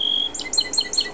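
Song sparrow singing a short, bright series of rapid high chirps and trills, close and clear against a quiet background.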